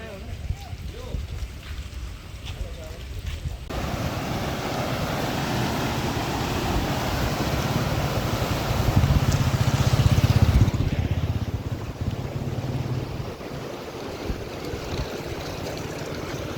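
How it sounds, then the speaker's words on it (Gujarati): Water from a full village lake in Dahisara, near Bhuj in Kutch, rushes steadily out through its outlet as a loud, continuous roar that swells midway and eases toward the end, with a voice faintly present. "ઘણું બધું ઓગણમાંથી પાણી જાય છે"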